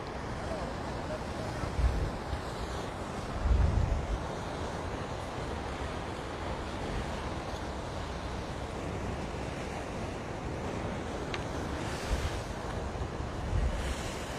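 Ocean surf rolling in along the rocky south shore of Oahu near the Blow Hole, a steady wash of waves with gusts of wind buffeting the microphone and a few louder surges standing out.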